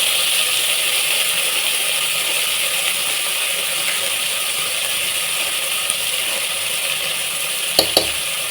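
Tomatoes and sambar powder sauté in a hot pan with a steady, continuous sizzle close by, broken near the end by a couple of sharp clicks; no one speaks.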